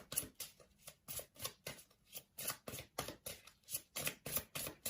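Tarot cards shuffled by hand on a small table, a close, soft riffling and slapping in a regular rhythm of about two to three strokes per second, with no talking.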